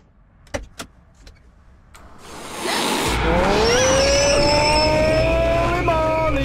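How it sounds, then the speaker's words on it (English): A car in the horror video game Perception starts up after a couple of sharp knocks, its engine rising into a loud, steady drone with whining tones that climb and hold. "let's get in a car"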